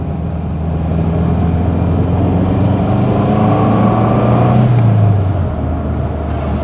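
A Subaru Brumby's flat-four engine revs hard under acceleration from inside the cabin, a loud, steady gravelly drone whose pitch climbs for about five seconds before easing off as the gear changes.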